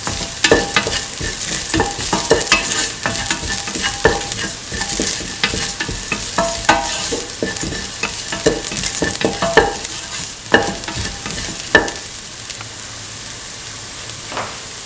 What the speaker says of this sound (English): mix the chili thoroughly with the rest of the mixture